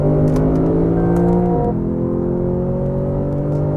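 Lexus engine at high revs under full throttle, a loud, steady, rising whine that drops sharply at a gear change partway through, then climbs again steadily; heard from inside the car with no talk.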